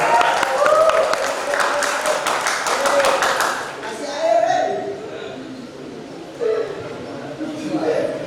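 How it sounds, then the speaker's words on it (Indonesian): Brisk, lively clapping from an audience at a student presidential and vice-presidential candidate debate at Stisospol Waskita Dharma fills the first half, then dies away as a voice talks over the room. "Berikan tepuk tangan yang meriah kepada pasangan calon nomor urut 3"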